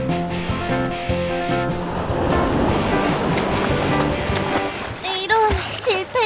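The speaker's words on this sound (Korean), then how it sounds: "이제 파도를 타보자." Cartoon ocean surf rushes and washes steadily beneath a musical score, with talking and bright effects near the end.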